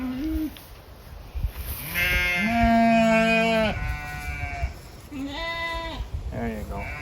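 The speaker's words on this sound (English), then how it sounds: "Let's go get the sheep." Several sheep in a front-yard permaculture flock bleat repeatedly at close range, overlapping calls rising and falling with short pauses, while a person speaks nearby.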